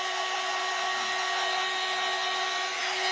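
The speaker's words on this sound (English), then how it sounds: "I hit it with the dryer so I can set it so that it's not moving about and sliding around." A hair dryer blowing onto a plastic snowman being recreated as a primitive craft piece, a steady close whirring hiss with a constant motor hum throughout.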